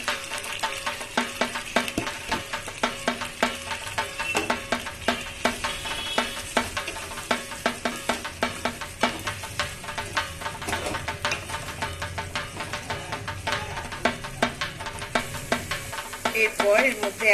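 Vegetables sautéing in an oil-rich spiced masala in a pan, with steady sizzling and repeated scraping and stirring clinks throughout, close and moderately loud.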